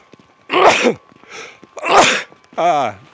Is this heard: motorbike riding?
no